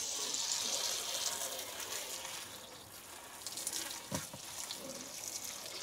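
Water running from a garden hose pipe into a container, a steady soft gush at moderate distance with a few brief knocks toward the end.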